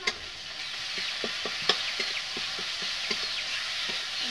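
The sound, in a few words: frying cumin-coriander paste with ginger-garlic in oil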